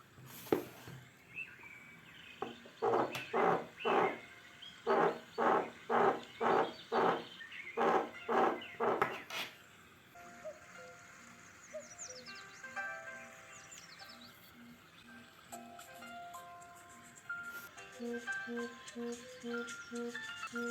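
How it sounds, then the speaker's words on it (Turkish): A Huawei Watch GT 2 Pro smartwatch buzzes on a table in a rapid run of even pulses, then a soft electronic melody chimes repeatedly. "Şu an titriyor ve çalıyor. Şöyle masanın üstüne koyarsam titremeyi daha iyi duyabilirsiniz."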